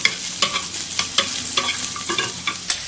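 Sliced bitter melon stir-fried in a hot pan, a steady close sizzle broken by repeated scraping clacks of a spatula at a loose, uneven rhythm, with no voices.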